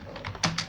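Keyboard typing as "Hello World" is entered into an HTML body tag, a quick run of crisp keystrokes with a few separate clicks, close and alone.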